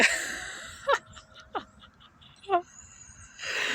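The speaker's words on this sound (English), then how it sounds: "there are some dogs in my yard and they don't belong to me." Dogs in a yard give a few short whimpering, yelping cries spaced apart, moderately near, with quiet stretches between.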